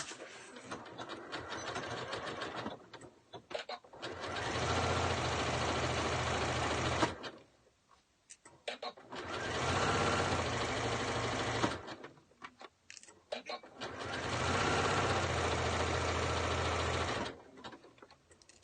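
Three separate bursts of a sewing machine stitching the center back seam of a hat, each a few seconds of rapid, even mechanical chatter, close and clear, with short quiet gaps between runs.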